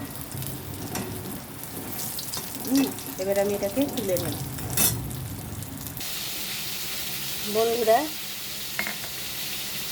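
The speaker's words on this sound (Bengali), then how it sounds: "পুরো মুচমুচে করে ভেজে নিচ্ছি একদম" Carrot fritters fry crisp in oil with a steady sizzle and bursts of stirring clatter, while someone talks over the cooking.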